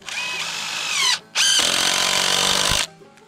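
A cordless power drill drives a screw into wood while building a chicken tractor: two close, loud whirring bursts with a short pause between them, the second longer and bogging down as the screw seats.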